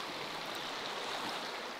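A mountain stream rushes near a waterfall in the Ukrainian Carpathians, a steady broadband roar of flowing water over stones, close and continuous with no voices.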